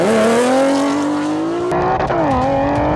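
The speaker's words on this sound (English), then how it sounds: "This is the Stage 3 B8 Audi S4." A Stage 3 B8 Audi S4 with a supercharger launches hard, its loud, close engine note climbing steadily in pitch, then briefly dipping and rising again as the revs change.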